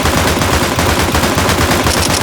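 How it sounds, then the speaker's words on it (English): Dual Beretta pistols fire at extreme speed in a video game, driven by an auto clicker, making a loud, continuous, machine-gun-like rattle of rapid shots that runs without pause. "You can fire the dual Berettas at Godspeed."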